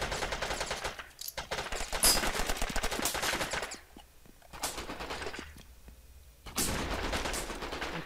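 Bursts of rapid automatic gunfire from the Zing PMP in the shooter game Brain Out, several fast volleys separated by short pauses, fairly close and crackling, with no talk over them.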